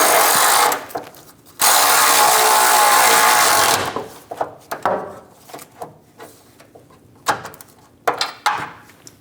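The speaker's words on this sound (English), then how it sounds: "Snug down the nuts inside the frame rail." Nuts inside the frame rail of a Chevrolet Express 2500 van are snugged down while a rear bumper step pad is fitted, with loud bursts of power-tool whirring followed by scattered clicks and metallic taps, close by.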